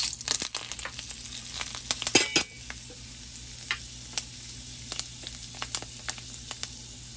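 Chopped bay leaf, dried chilli and a spoonful of fenugreek seeds sizzle in hot oil. The frying crackles close by, with sharp pops and stirring scrapes that are busiest at the start, then settle into scattered spits.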